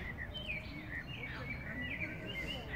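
Small birds chirp in a subtropical park in Sochi, with quick, thin high calls repeating through a soft outdoor background, fairly faint and at a distance.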